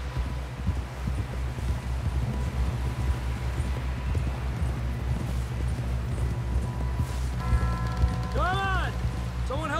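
Horse hooves clip-clop at a steady trot in Red Dead Redemption 2, a continuous rhythmic patter over an outdoor ambience, with a few tonal game sounds near the end.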